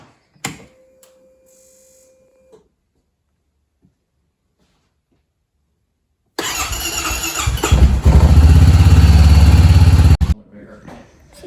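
A click and a short tone, then silence, before a 2022 Honda Pioneer 700 UTV engine cranks and catches, revving roughly and loudly for a few seconds before cutting off.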